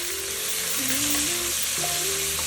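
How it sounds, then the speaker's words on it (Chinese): Onion and tomato fry in melted butter for borscht, a steady close sizzle and crackle with faint stirring, under soft background music. "黄油融化后加入洋葱炒香，加入西红柿炒烂"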